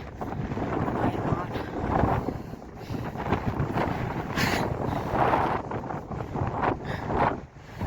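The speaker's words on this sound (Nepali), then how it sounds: "यस्तो हावा लागिरहेछ नि कुरै नगरौँ के" Strong wind roars and buffets the microphone in a steady rush on a hilltop ridge in Nepal, with a muffled voice faintly audible beneath the gusts.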